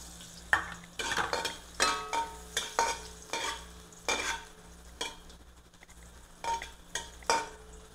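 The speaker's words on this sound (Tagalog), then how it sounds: "Kayaan natin maging brown muna itong luya para bumango." Ginger frying in a pan as the start of an escabeche sauce, a steady sizzle broken by repeated sharp scrapes and stirs of a utensil against the pan, with no talking.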